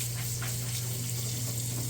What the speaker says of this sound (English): I'm just running cold water over them